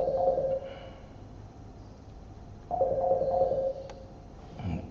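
A telephone rings during a university lecture, sounding two bursts of a repeating electronic ringtone about two and a half seconds apart, moderately loud against a quiet room.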